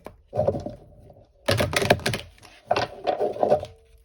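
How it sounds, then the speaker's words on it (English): A tarot card deck is shuffled by hand in three short bursts of soft, rapid riffling and tapping, with brief pauses between them. "we'll do one final shuffle here."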